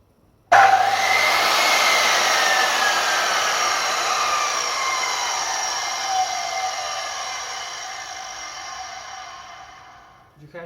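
A Makita HS0600 circular saw with a 260–270 mm blade and no soft start or brake jumps instantly to full speed with a loud, high whine, then slowly winds down over about ten seconds.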